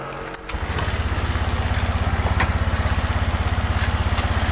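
Honda Vario 125 scooter engine with LED lighting and sluggish power cranks and fires up, then settles into a steady, close, rhythmic idle that runs unbroken to the end.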